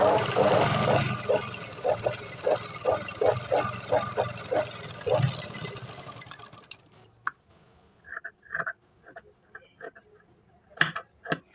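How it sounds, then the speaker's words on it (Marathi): A sewing machine runs a line of stitching along the edge of a two-piece Katori blouse, giving about six seconds of quick, evenly spaced mechanical pulses before a person starts talking. "आता आपल्याला परत फिनिशिंगसाठी आपल्याला परत इथे एक कडेवर एक शिलाई टाकून घ्यायची"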